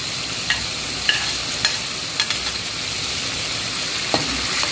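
Chili peppers stir-fry in a pan with a continuous bright sizzle, punctuated by a few light scraping clicks of a spatula stirring, close and steady with no talk.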